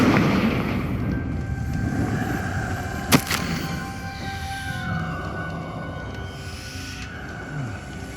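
A Confringo fire-blast spell from Hogwarts Legacy goes off as one sharp, loud explosion about three seconds in, rising briefly above a steady bed of game music and ambience.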